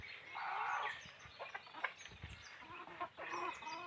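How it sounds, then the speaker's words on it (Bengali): Free-ranging desi chickens cluck softly while pecking at feed and grass seeds, with a string of short, irregular clucks and scratchy pecking sounds at low volume. "আমি যদি দেখাই মুরগি কিভাবে, এই যে দেখেন খাওয়া শুরু করছে"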